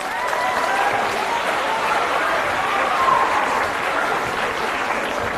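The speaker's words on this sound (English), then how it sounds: "Give her a round of applause." Steady, full audience applause filling the room at a live talk, even and loud from start to finish with a few faint cheers mixed in.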